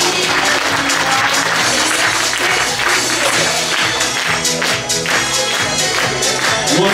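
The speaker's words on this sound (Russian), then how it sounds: "Еще раз ваши аплодисменты, дорогие друзья." An audience at a jubilee stage concert applauds in a dense, sustained wash of clapping that stays loud and steady, with a musical tone underneath.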